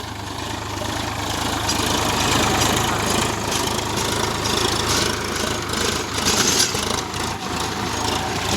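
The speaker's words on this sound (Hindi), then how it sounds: "थोड़ा RPM बढ़ाने बोलता हूँ, तो RPM बढ़ा दे।" A Sonalika tractor engine running in two-wheel drive, a steady close-up diesel chug with a low droning rumble and slight rattling vibration throughout, with no clear rise in revs.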